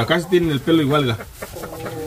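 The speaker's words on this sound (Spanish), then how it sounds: "Tenemos una gallina. Esta es la gallina china." A frizzled hen on a family ranch in the USA gives short, nasal clucks. The clucks are close and loud and mixed with someone speaking Spanish over them.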